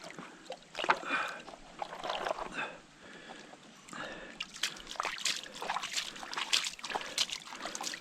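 Water sloshing and swirling in a gold pan at a creek while prospecting, soft irregular splashes and trickles up close, fairly quiet, with a voice speaking now and then.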